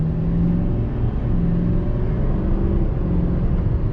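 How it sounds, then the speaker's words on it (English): A 2022 Chevy Silverado 3500 with the Duramax diesel accelerates at half throttle, a steady, loud, low rumble with no one talking. "All right, we got to roll into the throttle here."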